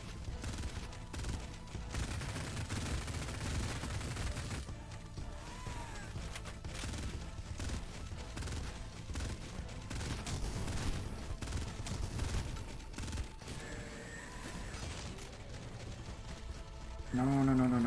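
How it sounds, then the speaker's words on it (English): Enemy machine gun fire in the Cultic video game, dense rattling bursts and booms that carry on throughout, mixed with game noise and a speaking voice. "There's the other machine gun."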